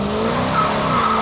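A Dodge Challenger accelerating hard, a loud sustained engine note climbing steadily in pitch from inside the car, with a faint voice barely present under it.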